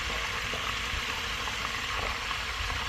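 Hot beef fat bubbles and crackles steadily while rendering into tallow at home, with a dense, constant simmering hiss, close up and with no talking.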